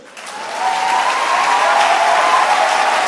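A church congregation breaks into sustained applause and cheering during a French-language sermon, the clapping swelling within the first half-second and holding steady and loud to the end.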